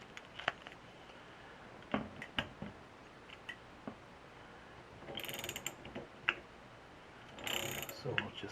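Socket wrench ratcheting while snugging a nut and lock washer on a Yamaha SR500 carburetor, sparse quiet clicks followed by two short bursts of fast ratcheting, close but faint.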